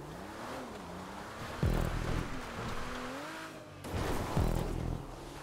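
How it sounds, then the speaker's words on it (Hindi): Car driving off-road in GTA 5, engine revving and rising in pitch with sharp thuds and bumps as it lands and climbs, moderately loud and without speech. "क्या ही ऑफ रोडिंग कर रही है भाई।"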